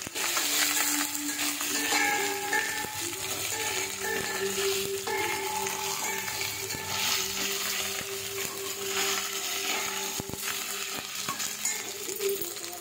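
Ginger paste frying in hot oil for a potato curry tempering, a loud, continuous close sizzle and crackle with occasional clinks of a utensil against the pan.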